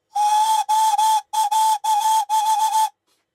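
Homemade steam whistle on a test before being soldered into its resonator chamber, giving a loud, steady single-pitched tone in several short bursts with clean gaps, then silence.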